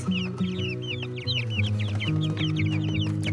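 Baby lavender Orpington chicks peep continuously in high, rapid chirps, close and lively, over a steady low background hum.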